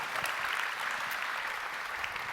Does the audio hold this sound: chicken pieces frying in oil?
no